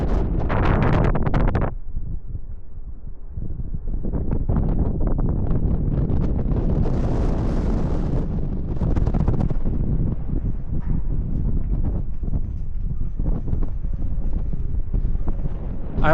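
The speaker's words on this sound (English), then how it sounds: "Man, it's getting windy up here." Gusty wind roaring across an exposed mountaintop at a remote Pacific Northwest fire lookout, loud continuous buffeting that rises and falls in waves, with a brief louder gust at the start.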